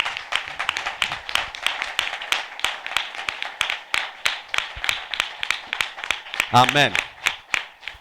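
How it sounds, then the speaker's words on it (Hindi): A church congregation clapping loudly and rhythmically in welcome, sharp steady hand claps in quick succession, with a voice briefly calling out partway through. "हम जोरदार ताली से उनका स्वागत करें।"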